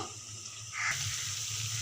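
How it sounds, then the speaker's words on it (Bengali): Masoor dal fritters (bora) frying in oil in a wok, a close, steady bubbling sizzle that swells louder partway through as more batter goes in, with no talking. "আর এবার বড়াগুলোকে আমি ভেজে নিচ্ছি।"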